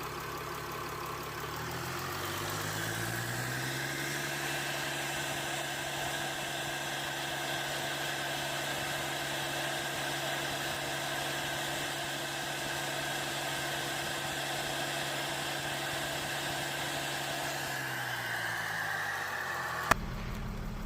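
Mercedes ML320 CDI diesel engine with a turbo actuator fault, revving up and holding a steady, droning high-rpm tone before settling back down, then a sharp click at the end; no talking.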